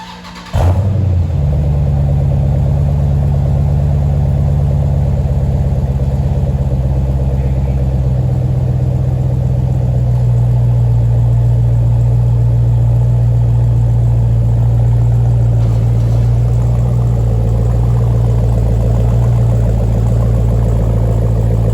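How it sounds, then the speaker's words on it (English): A Dodge Durango SRT with an MRT cat-back exhaust starts with a sharp crank and roar, then settles into a loud, steady, deep idle burble that shifts pitch slightly around the middle. "we're gonna go ahead and do a startup here with the new exhaust."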